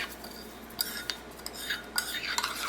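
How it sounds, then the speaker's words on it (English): A spoon stirs a chia seed mixture in a bowl, giving several light clinks and scrapes against the dish over a quiet background. "So this is what it looks like as you're stirring it."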